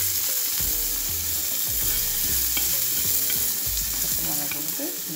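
Onion and green chillies sautéing in a pan for masala idly, a dense constant sizzle with rhythmic spatula scrapes and stirring knocks throughout, close and loud, with no voices.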